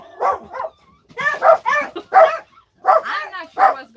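A dog barks and yips in short repeated bursts, close and fairly loud, with brief gaps between calls.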